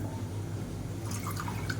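Water pours into rasam in a kitchen, a soft liquid splashing and dripping that brightens toward the end, close and moderately loud with no voices.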